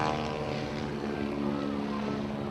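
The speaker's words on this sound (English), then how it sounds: "that engine certainly putting that airplane around through its paces today" A Boeing Stearman biplane's radial engine of about 200 horsepower drones overhead at an air show in Sumter, South Carolina, a steady, moderately distant propeller roar without talk.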